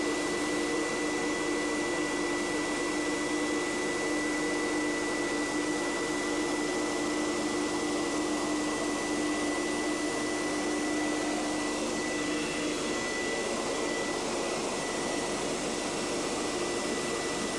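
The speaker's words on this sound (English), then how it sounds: "We're going to taxi over into position." An F-14 Tomcat jet taxiing into position on an aircraft carrier deck, a loud continuous engine roar and whine that holds steady throughout, heard from inside the cockpit.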